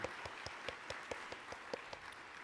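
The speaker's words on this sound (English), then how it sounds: "A round of applause for our first panelist." A small audience at a panel discussion claps for the first panelist, a faint, sparse patter of individual claps at an even pace.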